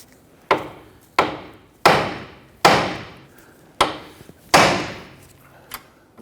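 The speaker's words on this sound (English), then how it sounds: "we're going to go ahead and use our hammer, and we're going to strike our knuckle right here" A hammer strikes the steering knuckle of a 2006-2014 Honda Ridgeline to free the outer tie rod: six sharp metallic blows at a steady, slightly uneven pace, each ringing briefly before fading, close and alone.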